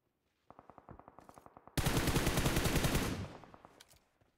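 Heavy gunfire in a big firefight in the PUBG Mobile video game: a rapid automatic burst, then a louder, dense stretch of overlapping shots that tails off with echo, and no voices.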